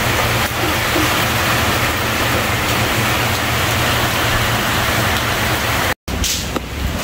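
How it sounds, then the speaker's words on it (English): Heavy rain pours down steadily with wind, a dense, loud, unbroken wash of noise close by that cuts out for an instant near the end before resuming. "the rain is actually intensified. Winds coming in together with it."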